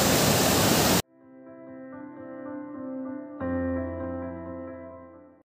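A loud, roaring rush of a stream swollen by heavy rain in Dharchula fills the first second alone, then cuts off abruptly and gives way to a steady humming drone.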